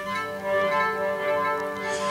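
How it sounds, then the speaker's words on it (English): A processed cello gesture in an ambient electronic project sustains rich harmonic tones that blur into echo repeats and a wash of hybrid reverb, swelling gently with no voice over it. "it's just a cello gesture with some echo and some hybrid reverb happening after it."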